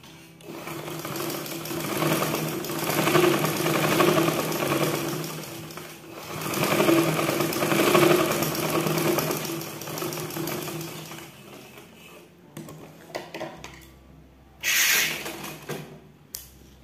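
A sewing machine stitches a women's blouse in bursts of fast, steady mechanical whirring that swell and pause, close by, ending with a few short clicks and handling sounds.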